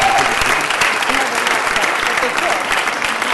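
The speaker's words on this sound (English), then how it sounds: "ask them to step forward for some applause as well" Steady applause for two women at a city council meeting fills the chamber, dense clapping from a seated crowd, loud and continuous throughout with no voices rising above it.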